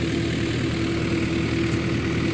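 A John Deere 1032 combine harvester harvesting soybeans: a loud, steady, low engine drone with a constant hum, close and unbroken, with no voices.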